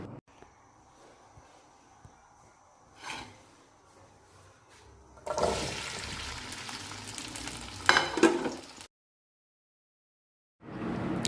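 Salan curry cooks in a pan at home, with scraping stirring strokes and a bright frying sizzle that swell loudly midway, then cut off briefly before resuming; quieter kitchen clatter comes first.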